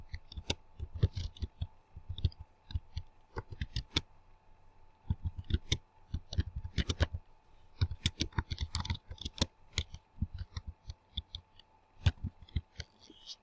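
Fingers type a paragraph on a computer keyboard in Notepad, a close run of uneven clicky keystrokes in bursts with short pauses, no talking.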